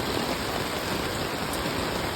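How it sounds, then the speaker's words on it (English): Steady, dense rain pours down outdoors in Guyana, a constant full hiss with no pauses and no voices. "There you go, Eon, sheltering from the rain."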